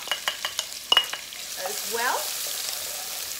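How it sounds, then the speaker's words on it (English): Spices and onions sizzle and spit in hot oil in a pan, with sharp crackling pops early on and a steady frying hiss underneath, while someone briefly speaks. "my spices are sizzling in the oil"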